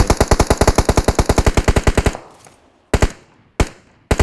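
Automatic rifle fire in PUBG Mobile: a rapid, loud burst of about twenty evenly spaced shots, then a fading echo and two more single shots after short pauses.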